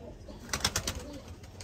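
Pigeons kept in a breeding setup give a short burst of several soft coos in quick succession, fairly close but quiet, against low background noise.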